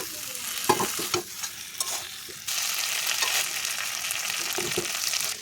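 Prawns hit a pan of spiced masala cooked down with salt and turmeric, crackling and sizzling loudly with a few sharp stirring scrapes, then settling into a steady, dense fry.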